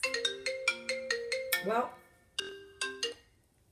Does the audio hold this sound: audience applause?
no